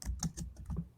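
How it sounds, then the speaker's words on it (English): Computer keyboard typing comes through faintly on a call, a brisk run of soft irregular key clicks. "We're getting some typing noise coming through here."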